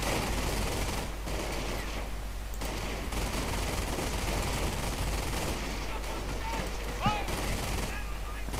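Dense, continuous small-arms gunfire from an infantry squad in the World War II strategy game Company of Heroes, steady and loud throughout, with in-game radio voices faintly mixed in.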